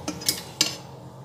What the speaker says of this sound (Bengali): পাত্রটার মধ্যে এটা পুরোটাই ঢেলে দিচ্ছি।